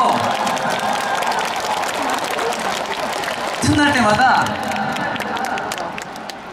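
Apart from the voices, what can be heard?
audience applause and cheering at trot concert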